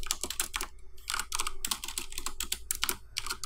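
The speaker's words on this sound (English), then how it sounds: "I press the backspace key more than any other one." Keys on a computer keyboard clatter in quick, uneven bursts of typing with short pauses, close and fairly quiet, with no talking.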